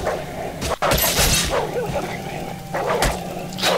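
Wolves bark and yip in the Akaneiro: Demon Hunters video game, several short snappy barks amid busy game noise, fairly loud and close, with no talking over them.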